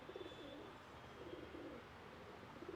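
A pigeon coos in soft, repeated low bursts, faint and fairly close, with quiet background noise and no talking.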